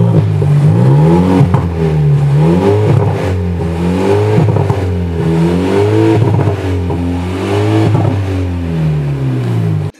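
An Audi RS3 with a petrol engine revving repeatedly, loud and close, with rising and falling rev sweeps in a steady rhythm and no voices over it.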